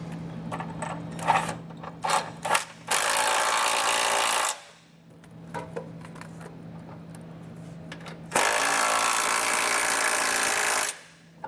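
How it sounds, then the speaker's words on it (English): While a Curt trailer hitch receiver is fitted to a 2023 GMC Acadia, hardware is snugged down with tools: a few quick clicks and rattles, then two long bursts of loud power-tool buzzing separated by a quieter pause. "So once they're all in place, we'll snug them all down."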